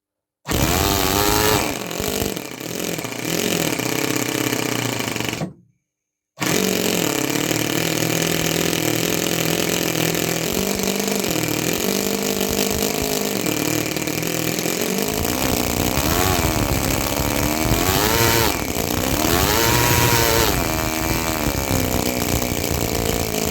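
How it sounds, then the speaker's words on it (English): A 7cc two-cylinder model engine running loudly and continuously with a buzzing, raspy drone, briefly cutting out, then restarting and revving up and down. "This small engine sounds amazing."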